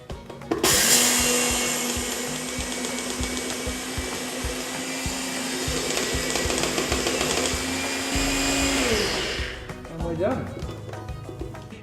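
A NutriBullet blender grinding spices, a loud high-speed motor whir that starts abruptly, runs steadily for several seconds with a gritty rattling texture, then winds down and stops, followed by a little handling noise and a voice.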